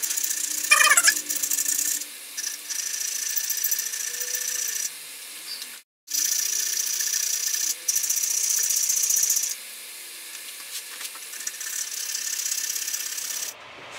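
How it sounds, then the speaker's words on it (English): Needle filing on a small metal piece for an old model boat produces close, steady rasping strokes in runs, pausing briefly between passes, with a short silent gap partway through and no talking. "Anyways, I got a lot of filing to do."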